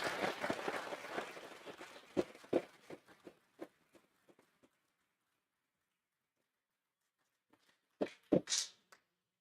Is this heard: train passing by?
no